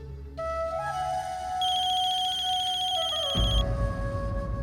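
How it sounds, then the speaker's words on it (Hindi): An electronic phone ringtone plays a steady repeating tone pattern, clear and close, with a low rumble coming in toward the end. "ये ज़ारा हमें क्यों फोन कर रही है?"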